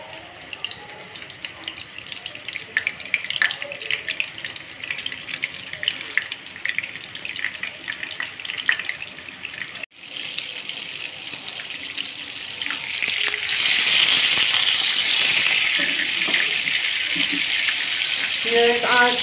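Kofta kebabs fry in a thin layer of oil in a pan over low-to-medium flame, giving a continuous crackling sizzle that turns louder and more hissing in the second half, with scattered clicks throughout.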